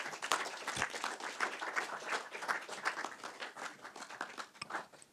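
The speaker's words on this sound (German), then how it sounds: "Großen Applaus" A film event audience applauding guests onto the stage in Frankfurt, a sustained dense clapping from many hands, even and continuous, somewhat distant in the hall.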